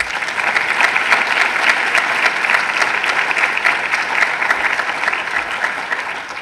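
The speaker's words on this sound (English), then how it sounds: "Please give them a round of applause." A lecture audience applauds steadily for several seconds, a dense, even wash of clapping throughout the hall.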